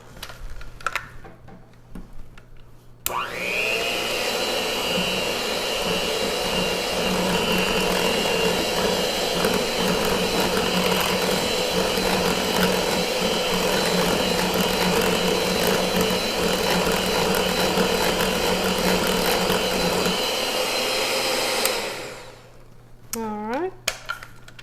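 An electric mixer whirs steadily for about twenty seconds, beating a cream cheese mixture with vanilla and liquid sweetener for sugar-free cheesecake brownies, loud and continuous with a brief start-up and wind-down.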